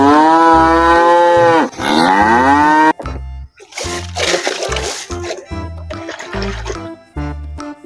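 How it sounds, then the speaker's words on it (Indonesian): Loud, close cow moo with a long drawn-out call at the start, followed by splashing and dripping water sounds in short bursts. "Wow, ada sapi teman-teman."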